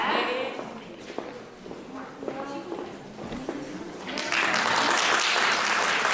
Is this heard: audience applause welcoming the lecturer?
yes